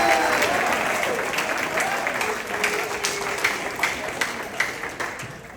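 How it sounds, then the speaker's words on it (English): Applause from the crowd at a spring sports banquet honoring a JV boys basketball team, a full burst of clapping that gradually thins into scattered individual claps, fairly close and moderately loud. "you can clap"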